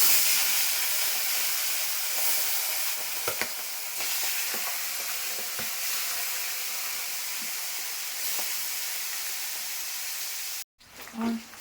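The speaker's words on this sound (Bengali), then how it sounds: "এখন আমি মাছের মাথাগুলো দিচ্ছি কড়াইতে" Loud, steady sizzling of fish heads frying in hot oil, with occasional spatters and scrapes, stopping abruptly near the end followed by a brief clatter.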